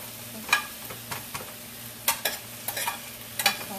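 Onion being sautéed with salt in a pan for a chicken and eggplant dish: soft, quiet sizzling broken by sharp clicking stirs and scrapes of a utensil, several irregular taps over a low steady hum.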